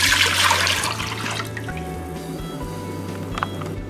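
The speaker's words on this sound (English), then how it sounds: "I'm going to pour 4 cups of water." Water is poured into a cooking pot for Spanish rice, a continuous splashing, filling rush that is loudest at the start and then settles into a steadier, slightly rising fill with a few drips near the end.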